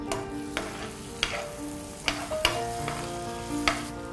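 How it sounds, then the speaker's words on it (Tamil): Cashews frying in melted butter in a pan, a soft steady sizzle punctuated by several sharp clinks of a utensil stirring against the pan, fairly quiet and close with no talk. "cashew நல்லா ஃப்ரை ஆயிடுச்சு இல்லையா?"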